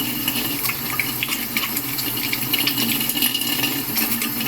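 Hands rubbed together with soap under a running tap at a sink, a steady close splash of water with soft friction textures layered on top, no voices.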